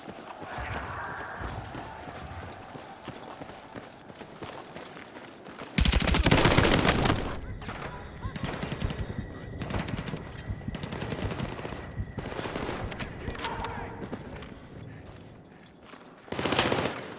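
Battlefield 6 battle gunfire: a steady patter of distant and mid-range shots under a continuous combat din, broken by loud close bursts of automatic fire in the middle and again at the end.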